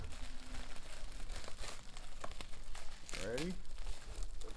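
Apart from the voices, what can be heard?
unwrapping layers of plastic wrapping from a consignment package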